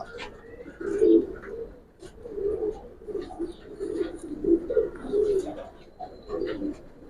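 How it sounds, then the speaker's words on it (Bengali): Giribaz pigeons coo in low, soft, repeated throaty bursts, close by and steady, with faint flapping and rustling between calls, at a pigeon loft. "দেখেন দুইটা কবুতর"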